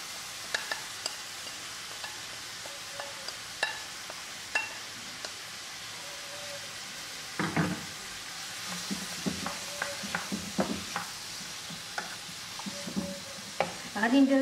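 Onion, garlic and peppers frying in a pan, a quiet continuous sizzle broken by irregular spoon scrapes and taps, close by and with no talking.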